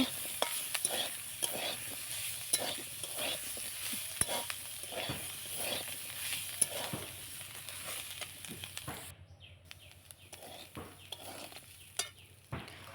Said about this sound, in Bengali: আর অল্প একটু হলুদ আর একটু ভালো করে ভেজে নেব